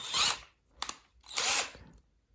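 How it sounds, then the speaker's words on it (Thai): An electric drill with a locked, very stiff chuck whirs in three bursts: a half-second run, a brief blip, then a longer spin, each rising and stopping abruptly, with no talking. "อันนี้คือสว่านตัวอย่างนะครับที่ หัวสว่านล็อกนะครับ"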